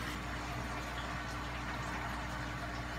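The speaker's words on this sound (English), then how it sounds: "And water change commences." Water rushes steadily during an aquarium water change, a continuous close gushing and bubbling with a low pump-like hum underneath, no talk.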